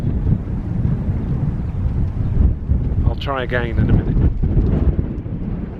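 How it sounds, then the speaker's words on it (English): A big gust of wind buffets the microphone outdoors, a loud continuous low rumble that surges throughout, while someone speaks briefly over it. "Just as he says that, there's a big gust."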